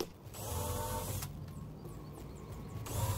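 A power drill drives screws into the top piece of a wooden porch banister, a faint, close mechanical whir in short bursts with pauses between them.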